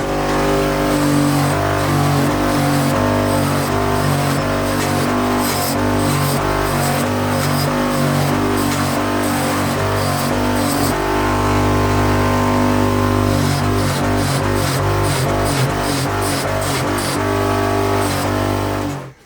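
An electric buffing machine polishes a stained motorhome cooker during dry buffing, giving a loud, steady motor whine with a harsh, grinding edge that holds throughout, with slight shifts in pitch as pressure changes.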